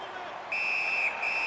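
Referee's whistle in an NHL 19 hockey game, a sharp steady high blast that cuts in, breaks briefly and resumes, over a crowd wash.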